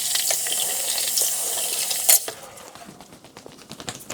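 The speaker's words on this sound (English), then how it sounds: "I've gotta go and rinse out this pepper" Tap water runs in a rush as a pepper is rinsed in a van kitchen, then shuts off midway, leaving faint clinks and handling sounds with no talking.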